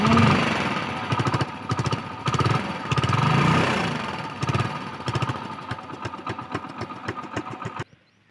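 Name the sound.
motorcycle engine starting with balloon on silencer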